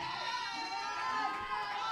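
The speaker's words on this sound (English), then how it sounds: "The fans are starting to cheer his name." Fans cheer and chant a wrestler's name during an independent wrestling match, a steady, moderately distant crowd roar with shouted voices layered throughout.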